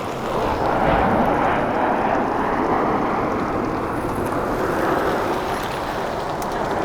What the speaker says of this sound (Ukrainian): Літачок летить, двигун новесечкий